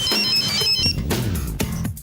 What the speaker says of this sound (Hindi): जरा भानु के नंबर पर फोन लगाओ।